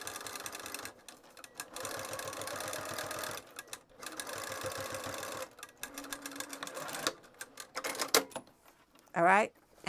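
A sewing machine runs a top stitch on a fabric pouch in bursts of rapid mechanical chatter separated by pauses, close and clear, with a person speaking between runs.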